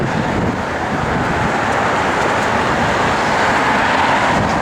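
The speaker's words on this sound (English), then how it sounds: "Good sounding Flowmaster dual exhaust" A 1964 Chevrolet Chevelle 300 with a Flowmaster dual exhaust, a continuous broad rumbling drone held steady and loud throughout, with a wind-like wash and no voices.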